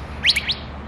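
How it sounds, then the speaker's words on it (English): A single bird chirps a few quick, bright tweets close by on a morning in Scottsdale, Arizona, alone over a faint background hiss. "oh, hello bird. Good morning."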